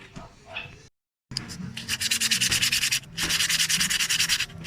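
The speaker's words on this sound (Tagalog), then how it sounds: "gagamitan lang natin siya na napakanipis na liha para matanggal lang yung mga dumi" A part from the air conditioning of a Suzuki Every Wagon DA64W is sanded with very fine sandpaper to remove dirt, in rapid rhythmic rasping strokes, close and loud, following a brief silent gap.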